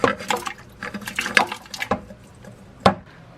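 Sugar water poured into a brew bucket holding water for elderberry champagne, splashing and trickling in uneven bursts with a few sharper splashes, close and moderately loud.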